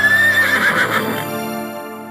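A horse neighs loudly and close, a single drawn-out whinny that fades in its second half, heard alone in a Rajasthani Tejaji devotional song about the mare Lilan.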